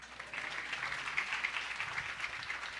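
Audience clapping at a Swaminarayan temple gathering in Boston, a dense, even patter of many hands heard from some distance, fairly soft and steady for a few seconds.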